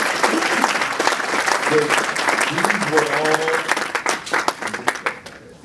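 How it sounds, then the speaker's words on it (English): Audience applause for startup presenters at a New Jersey tech meetup, a loud sustained clapping crowd that thins toward the end, with a speaker's voice talking over it. "So how about a round of applause for all three presenting clients?"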